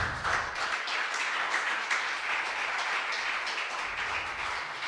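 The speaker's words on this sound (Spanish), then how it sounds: "Denle un aplauso a él." Church service congregation giving a round of applause, continuous dense clapping at a steady moderate level throughout, no talking over it.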